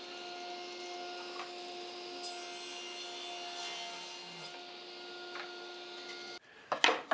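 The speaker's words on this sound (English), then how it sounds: "first I'm going to rip both of these at 4 inches" A table saw hums steadily while ripping wooden boards to width, the blade's tone holding constant before a short burst of harsher cutting noise at the end.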